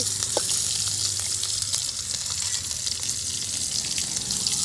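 Stuffed bell peppers roasting in a pan make a loud, continuous close sizzle and hiss that holds steady the whole time, with a faint tap or two and no voices.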